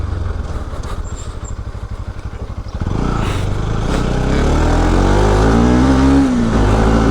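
Motorcycle engine running loud and close throughout while riding on a village route, with revving rising after the first few seconds into a steady, strained drone, the bike having sat unused for over a week.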